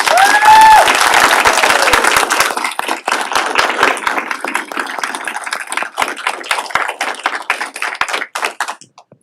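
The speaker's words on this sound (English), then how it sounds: "If we could give one final round of applause to all the graduating deputies." A crowd applauds graduating deputies at a sheriff corrections academy graduation ceremony, dense loud clapping at first that thins into scattered claps and fades out over several seconds.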